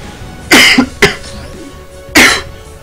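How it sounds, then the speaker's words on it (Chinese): A person with a cold coughs three times at close range: a harsh pair of coughs, then a single loud cough after a short pause, with no speech. "所以可能会一直咳嗽"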